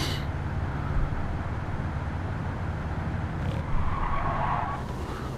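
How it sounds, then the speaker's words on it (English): A Lamborghini Huracan GT3 race car in Gran Turismo 7 laps Daytona, its engine roaring steadily with tire squeal and skidding noise mixed in, loud and continuous without speech. "I'm going to do a lap in a Lamborghini Huracan GT3."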